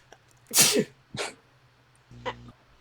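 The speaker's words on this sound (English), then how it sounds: "He sneezes." Three short sneezes from a man, spaced apart in a quiet room with a low hum underneath: a loud, sharp first burst, a smaller second, then a softer third.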